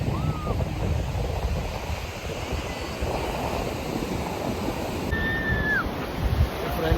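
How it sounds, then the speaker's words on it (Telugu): Ocean surf rolls steadily onto Gokarna main beach, a continuous broadband wash with wind buffeting the microphone and no distinct voices. "Gokarna beach, main beach."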